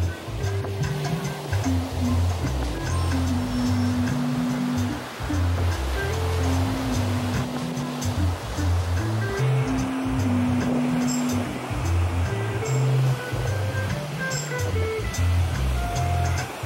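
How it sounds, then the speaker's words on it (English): Ocean surf breaks steadily on an Atlantic barrier island beach at Assateague Island national seashore, a loud continuous wash of waves with a faint low hum underneath. "Made it down onto the ocean."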